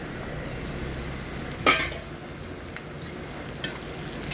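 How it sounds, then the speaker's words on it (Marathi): A small batch of raisins frying in ghee for dry fruit laddoo, a soft steady sizzle with a sharp spatula clink and a few quieter scraping stirs. "थोडेसे नाजूक असे फुलून तिथे परतवून घेते।"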